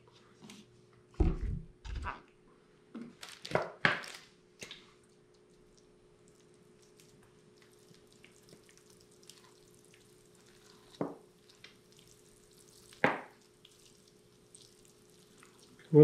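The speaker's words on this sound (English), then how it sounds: "Just going to wet the surface before I use the water bottle." Water from a plastic water bottle wetting the soil surface of a freshly root-pruned, repotted ficus bonsai: a few faint, sparse splashes and trickles in an otherwise quiet room.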